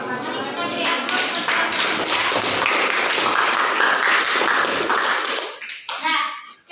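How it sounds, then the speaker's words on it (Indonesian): A classroom audience bursts into sustained, dense clapping after a group discussion presentation, loud and close for about five seconds before trailing off into a few scattered claps and murmurs. "Mari kita beri aplaus."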